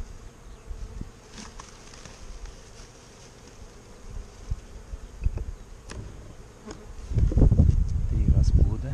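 Honeybees hum in a steady low drone close by at an apiary hive during spring frame inspection, with rustling and handling noises growing louder toward the end.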